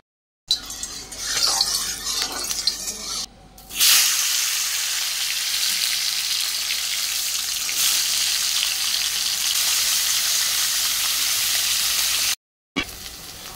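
Bitter gourd (karela) frying in a pan gives a continuous bright sizzle that swells sharply after a brief pause, then holds steady and close before cutting out near the end.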